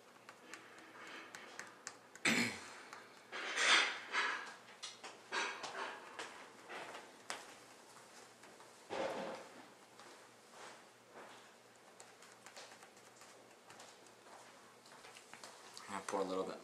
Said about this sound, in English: All the background noise you hear is my parents cooking dinner.